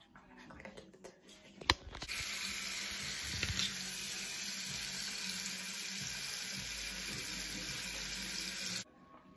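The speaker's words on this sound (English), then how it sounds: "I'm gonna dip this in water" A brief clatter as a pregnancy test is dipped, then a steady rushing hiss of running water that continues evenly for several seconds before cutting off.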